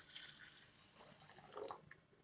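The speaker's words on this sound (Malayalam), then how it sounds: "ഞാൻ 2 ഗ്ലാസ് വെള്ളം ആഡ് ചെയ്യുകയാണ്" Water poured into a pot on a stovetop for a homemade hair mask of triphala, amla and tea powder, a brief splashing pour that tapers off, quiet and close with no talking.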